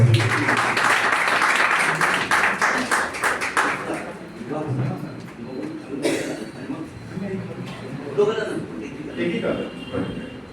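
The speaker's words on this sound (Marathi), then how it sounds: "जोरदार टाळ्या वाजवूया आपण" An audience at a stage prize ceremony claps in a dense burst of applause that fades after a few seconds, followed by a person speaking over scattered residual claps.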